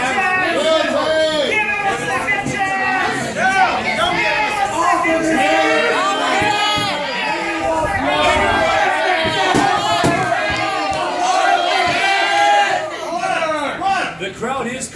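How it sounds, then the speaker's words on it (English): A large crowd at a mock courtroom event shouts and chants together, a dense, loud and sustained clamour of many voices rising and falling over fifteen seconds. "The crowd is calling for a second chance for him to"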